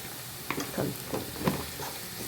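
A spoon stirring fish curry in a frying pan, soft sizzling under a few scraping strokes spaced irregularly, close and fairly quiet.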